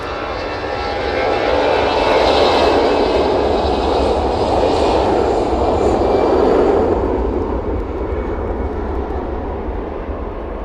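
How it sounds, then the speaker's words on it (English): An Ethiopian Airlines Airbus A350 departs Manchester Airport, a broad rumbling jet roar that builds, holds strong for several seconds, then fades into a distant drone, heard alone without talk. "The Ethiopian A350 departure, absolutely stunning, wasn't it?"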